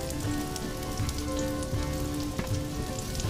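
Goose meat cutlets sizzling in a frying pan outdoors in field conditions, five at a time, a steady dense crackle and spatter heard up close over a low background hum, with no voices.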